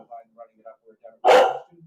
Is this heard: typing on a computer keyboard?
no